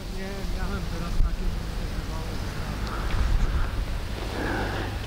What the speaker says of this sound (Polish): Wiatr duży, zobaczcie sami, jak wieje.